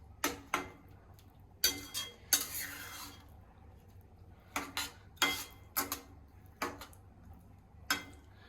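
A spoon stirs mango and jaggery syrup with turmeric in a pot, giving sharp, irregular clinks and scrapes against the metal with quiet gaps between them, close and fairly faint.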